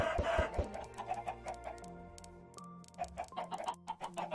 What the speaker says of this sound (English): So many chickens.